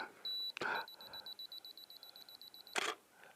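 A camera self-timer in a portrait studio beeps in a quick, regular series of short, bright pulses, bracketed by two sharp shutter-like clicks, with quiet room tone around it.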